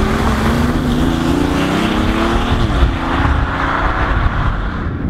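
The engine note of a BMW i8, augmented through its in-cabin speakers, is heard from inside the car: a loud, steady hum with tones that rise under acceleration, then briefly dip and level out as the car cruises.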